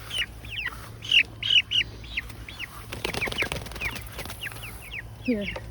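Chickens kept alongside goats give repeated bright clucks and short calls up close, with a brief flutter of wings, over a steady low hum and some background movement.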